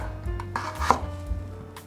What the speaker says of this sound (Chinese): 把红萝卜切条，切细一点。